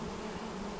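Honey bees on a hive frame in a beekeeping setting make a dense, continuous buzzing hum, close and steady over a brief moment, with no voices.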